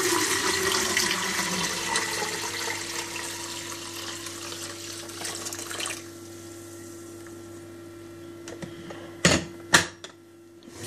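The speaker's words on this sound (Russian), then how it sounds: "Сейчас мы нальем воды." Water pours into an electric thermopot at home, a loud rushing splash that gradually softens and thins out, ending in a few sharp knocks near the close.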